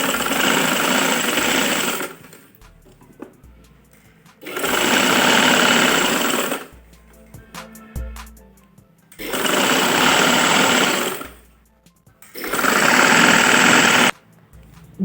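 A sewing machine stitches a girls' winter frock, running in four long loud bursts of about two to three seconds each, separated by quiet pauses with faint handling noises.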